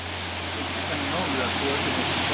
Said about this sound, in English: and there's the waterfalls,